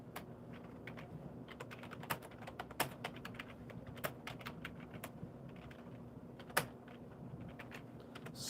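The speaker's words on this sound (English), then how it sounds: "It's so weird typing on my thing." Fingers tap on a keyboard in a steady run of quiet, irregular clicks, with an occasional sharper keystroke, all set against a soft continuous background hum.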